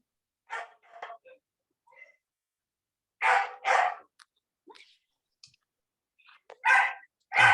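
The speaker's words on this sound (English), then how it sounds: "I see in the survey the dog sound" A recorded dog barking played back in an English class, several short sharp barks in separate bursts with silent gaps between them.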